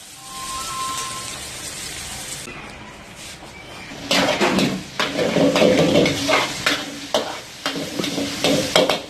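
Ingredients for Singaporean rice sizzle and get stirred in a hot pan at a street food stall in Karachi, a quiet hiss at first, then loud frying with scraping strokes and clatter.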